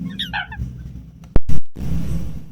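Coots, aquatic birds, give a short burst of high, clucking calls at close range, followed by a couple of sharp, loud knocks and a low rumbling background.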